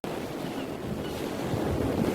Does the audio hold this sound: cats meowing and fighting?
no